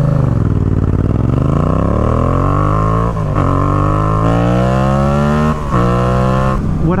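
Yamaha FZ07 motorcycle engine revving while ridden, loud and close, rising steadily through the gears with short dips at each shift, no talking.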